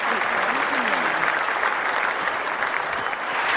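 Dense crowd applause fills a London 2012 weightlifting video game arena, a steady wash of clapping that stays loud and continuous throughout, with a faint commentator-like voice in the background.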